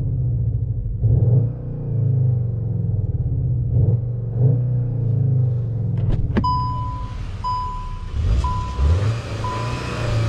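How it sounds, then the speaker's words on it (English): A 2021 Skoda Octavia RS with a 245 hp engine in sport mode, heard from inside at night, hums as a steady low rumble with several brief revs; high electronic chimes beep repeatedly near the end. "let's give it some revs"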